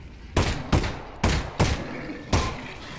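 Five loud, sharp gunshots from a weapon in the VR game Half-Life: Alyx, fired one at a time at uneven intervals with a short ringing tail after each, no voices.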